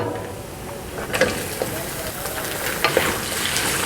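One kilogram of beef frying with browned onions for Kabuli pulao, a steady hissing sizzle with a few faint clinks of stirring.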